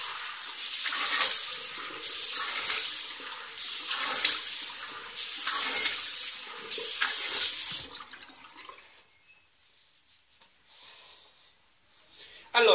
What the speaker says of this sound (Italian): Acqua fredda